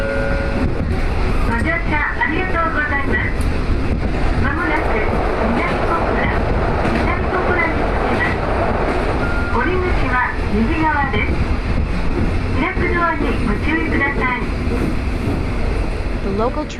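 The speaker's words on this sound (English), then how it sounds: "The local train bound for Kakura will soon arrive at Minami Kakura Station." A local train pulls into Minami Kakura Station in Fukuoka Prefecture, Japan, wheels clattering and rumbling loudly and continuously on the rails, with squealing brakes and voices heard over the noise.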